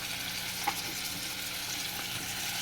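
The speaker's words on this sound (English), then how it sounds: "you're taking these vegetables and you're sauteing them now in all that oil and the onions" Mushrooms, vegetables and onions sautéing in oil in a pan, a steady, even hiss of frying with a faint clink partway through, close and continuous, with no talking.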